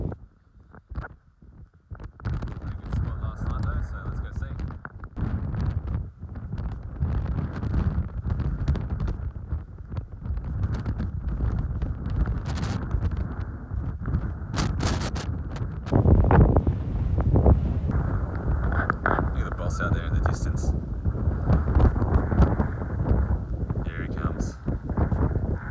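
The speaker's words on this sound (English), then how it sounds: "super, super windy still" Strong coastal wind roars and buffets the microphone continuously, loud and gusty throughout, with no other clear sounds.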